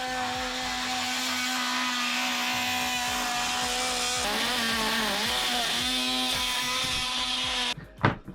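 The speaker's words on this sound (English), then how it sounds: "So Gary decided just to take a little grinding tool to the pipe because he tried to get a wrench on it and it was just too tight." A small grinding tool cuts through a tight, large, age-hardened, wire-reinforced hose pipe on a sailboat. The whine is steady and loud, its pitch wavering as it bites, and it stops abruptly near the end with a couple of clunks.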